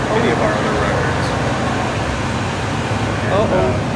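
Bathroom hand dryer running at a festival venue, a loud continuous broadband whoosh of blowing air that stays steady throughout, with faint voices beneath it.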